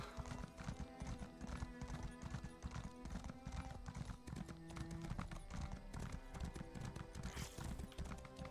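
Steady clip-clopping of horse hooves at a trot in Elder Scrolls Online, loud and continuous over game music and ambience, with a brief whinny.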